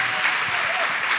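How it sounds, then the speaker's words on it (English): Conference audience applause, a dense, steady wash of many hands clapping at even volume throughout, with no distinct voices standing out. "clap it up, everybody"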